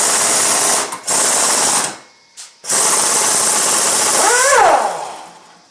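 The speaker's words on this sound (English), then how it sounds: "To make it faster, use air impact when removing the pulley." An air impact wrench hammers loudly and close up while removing the power steering pump pulley on a Dodge truck. Two long rattling bursts are split by short pauses and a brief blip, then it winds down.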